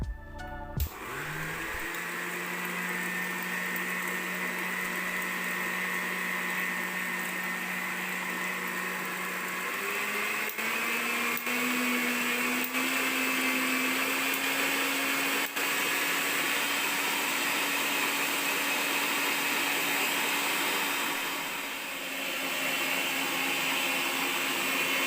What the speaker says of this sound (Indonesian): Kemudian ini akan kita mixer sampai putih